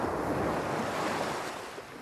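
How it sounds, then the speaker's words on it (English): Sea waves and surf roar steadily, a loud close wash of breaking water with wind noise on the microphone and no other sound. "the constant roar of the sea"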